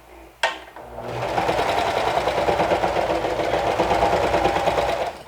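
A home sewing machine with a new needle stitches a side seam slowly. A sharp click comes first, then a steady, close mechanical whirr with a fast even rhythm runs for about four seconds, with no talking.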